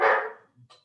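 A single loud, close dog bark bursts out and fades, followed by a faint low grumble and a short, quieter second yelp.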